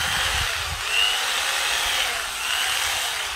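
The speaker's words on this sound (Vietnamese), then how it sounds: "con cưa lộng gia đình hiệu Ribi" A Ribi 220W household electric jigsaw runs steadily with a high buzzing whine, loud and close, its pitch holding nearly constant throughout.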